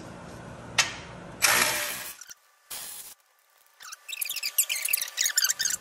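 Ratchet working bolts loose on the front frame of a 2021 Polaris RZR Trail Ultimate: a few bursts of clicking and metallic rattles, then a rapid run of close, crisp pawl clicks near the end.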